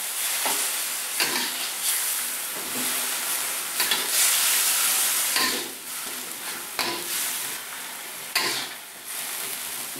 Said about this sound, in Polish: Całość smażymy mieszając.